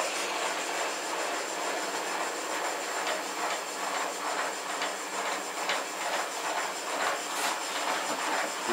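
A Shopsmith lathe turns a travel mug at 990 RPM, producing a steady airy whir and hiss with a faint rhythmic pulsing throughout, fairly loud and even.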